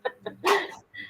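Dogs bark in a quick burst, two short yaps followed by a louder, longer bark and a final short yelp, fairly close and clear.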